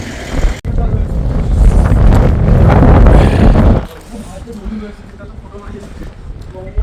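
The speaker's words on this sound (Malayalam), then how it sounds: "കാറ്റ് കൊണ്ട് ഒരു രക്ഷയുമില്ല. ഒരുമാതിരി കാറ്റ്." Strong wind buffets the microphone at Sela Pass, 13,700 feet up, roaring loud and broadband for several seconds before easing to a lower rumble, with a voice speaking over it.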